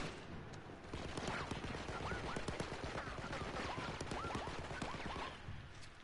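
Dense rapid gunfire in Uncharted 2, continuous overlapping shots in a busy battle with whistling ricochets, steady and loud throughout.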